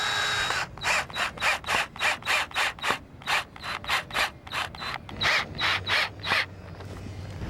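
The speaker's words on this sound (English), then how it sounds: "Now we're going to install these screws, but we're not going to tighten them all the way" Screws being driven into a transducer bracket on a boat transom, a rapid series of about eighteen loud, rhythmic ratcheting bursts from a power driver, close by, with no talk.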